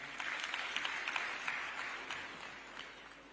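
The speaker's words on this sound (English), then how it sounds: "a round of applause to Barrick Lumwana." Applause from an audience of media and international investors at a presidential address, a soft, fairly distant crackle of many hands clapping that gradually thins and fades over a few seconds.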